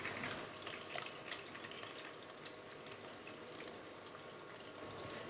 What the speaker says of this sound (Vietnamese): Mình luộc cá để cho nó chín, giúp cá không tanh và nó không có bị nát nữa.